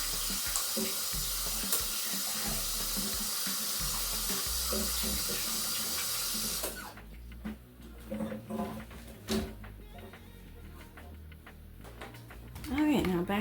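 Hands are washed under a running kitchen tap while baking pumpkin pie: steady, loud water flow for about seven seconds, then it stops and gives way to quieter clinks and handling sounds while a person talks.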